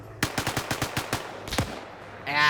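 Rapid bursts of gunfire in a multiplayer World War II-style war game, a quick string of about eight close, sharp shots followed by two louder reports, then a short mechanical noise at the end.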